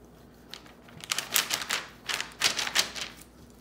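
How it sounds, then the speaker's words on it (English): A knife trims hard fat from beef short ribs, giving a run of crisp scraping, crackling strokes in quick bursts, close to the mic, with no talking. "On this side, I am gonna trim a little bit of this fat off."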